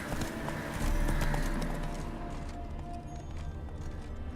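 A horse gallops in The Witcher 3 video game, with a continuous rapid drumming of hooves over a dense, rumbling game backdrop, loud and close throughout.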